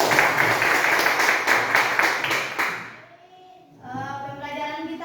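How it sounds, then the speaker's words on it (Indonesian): Classroom audience applauding at the start of a vocational school lesson, a dense burst of hand clapping for about three seconds that stops abruptly, followed by quieter room noise and a voice speaking. "Tepuk tangan dulu."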